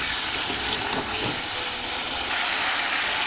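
Spinach chicken curry fries in a pan with a steady, loud sizzle while a spoon stirs it, giving a few soft scraping knocks early on.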